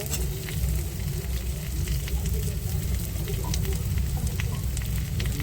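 Potato pieces frying with browned onions in a pan, giving a steady close crackling sizzle that continues without a break.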